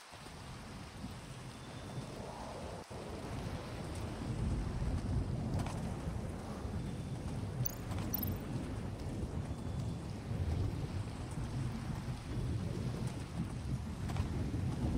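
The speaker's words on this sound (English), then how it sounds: "The storm." A video game storm builds from a low, rushing roar into heavy rain and thunder rumbling beneath windy gusts, with a sharp crack early on and a steady, loud wash of weather lasting to the end.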